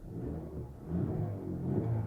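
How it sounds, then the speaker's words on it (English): A 2024-2025 Lincoln Nautilus engine revs lightly, a low, steady rumble that swells a little partway through and holds, heard close with no talking. "Kind of revving it a little bit"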